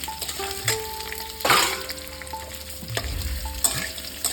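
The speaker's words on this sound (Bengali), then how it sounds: "আলুটা আস্তে আস্তে করে প্রথমে ভেজে নেবো" Potato pieces fry in hot mustard oil for a Bengali kofta curry, a bright sizzle with intermittent stirring and scraping bursts, plus some clinks of a utensil against the pan, close up and with no talking.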